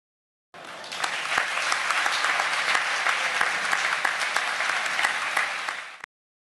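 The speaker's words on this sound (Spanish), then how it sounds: "me gustaría recibir con un fuerte aplauso sobre este escenario a Miguel Auría Etxegoien" An audience on stage at the 39th Memorial Raimundo Lanas jota event gives a strong, steady round of applause to welcome jota singer Miguel Auría Etxegoien. Dense clapping rises sharply, holds at full volume for about five seconds, then stops abruptly.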